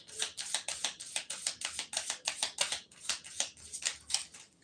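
A deck of Jane Austen oracle cards is riffled and shuffled in quick, crisp bursts, a dense run of about a dozen close papery flutters with no speech.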